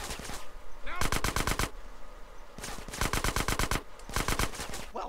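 Weapon fire in GTA San Andreas comes as three rapid bursts of loud, evenly spaced automatic shots separated by short pauses, with someone speaking faintly between bursts.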